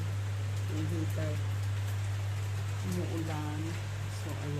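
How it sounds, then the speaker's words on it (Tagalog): Rain falls in a steady, hissing wash around a camper van while a heater drones in a low, constant hum and a person talks over it. "Umuulan."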